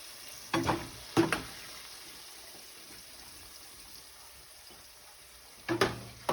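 Freshly fried salt and pepper squid sizzles steadily in hot frying oil. A few louder clattering bursts rise over the constant hiss, and nobody speaks.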